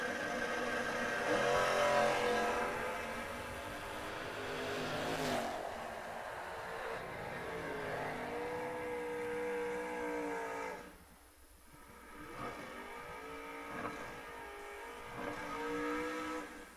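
Drag racing cars at a track, a Chevy II and a Camaro, roar with engine noise that swells, fades and surges again at a moderate distance, with no talk over it.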